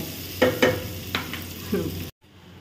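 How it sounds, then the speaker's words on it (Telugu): Chicken pulao fries in a pan while a spoon stirs it in a few distinct scraping strokes over a low steady sizzle, close up, before the sound cuts abruptly to near silence. "ఇంకా ఇలా ఫ్రై చేసిన మూత పెట్టుకొని కాసేపు మీరు ఫ్రై చేసుకోండి మంచిగా"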